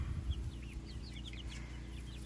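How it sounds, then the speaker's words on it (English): Soft, intermittent clucking from a few chickens over a low background hum, fairly faint and at a short distance. "I'm watching chickens, Mom. I'm watching chickens."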